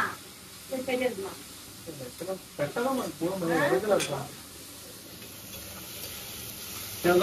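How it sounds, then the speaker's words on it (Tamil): Onions and tomatoes hit a hot frying pan for a home-style chicken dish, giving a soft hiss and stirring scrapes in short bursts under a voice talking nearby. "வெங்காயம் தக்காளி போட்டுக்கிறேன்."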